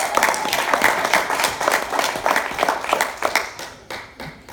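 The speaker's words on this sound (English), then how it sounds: "Give her a round of applause." Audience applause at a social media influencer panel, a brisk patter of many hands that is loudest at first and thins out toward the end.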